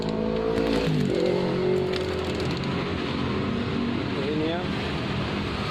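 Suzuki Shogun 125 motorcycle engine idling after a kick start, a steady close running rumble that continues throughout while someone talks over it.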